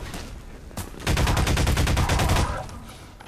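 Rapid automatic weapon fire in Half-Life 2: Lost Coast, a dense, loud burst of fast repeated shots lasting over a second before tapering off into quieter background.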